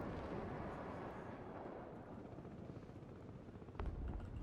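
Military helicopter from the Broken Arrow game rumbles low and continuous, its rotor drone blending with distant thuds of gunfire and explosions, capped by a sharper nearby boom near the end.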